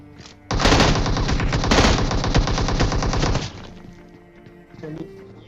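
Sustained automatic fire from an M16 rifle in PUBG Mobile, a dense, loud burst of rapid shots lasting about three seconds before cutting off, with faint game sounds trailing after.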